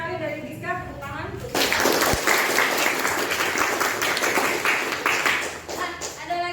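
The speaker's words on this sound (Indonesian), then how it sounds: "tepuk tangan" Classroom applause bursts out after some quiet talk, a dense, steady clapping from many students that carries on loudly for about five seconds before easing off.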